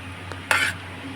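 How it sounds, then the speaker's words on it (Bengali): Biryani being stirred in a pot with ghee, with half the meat added: one soft scrape near the start, then a clearer close stirring scrape and clink lasting a fraction of a second, over a faint steady background hum. "এবার আমি বিরিয়ানিটাকে একবারে আস্তে আস্তে করে মিশিয়ে দেবো"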